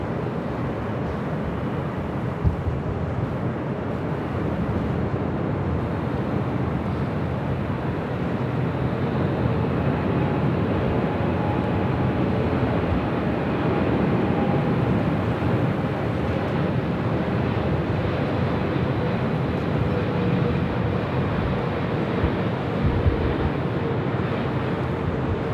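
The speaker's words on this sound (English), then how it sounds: "That's 777 fighting the wind." Boeing 777 airliner landing in strong wind at LAX, a steady broadband engine roar mixed with gusting wind noise that holds throughout.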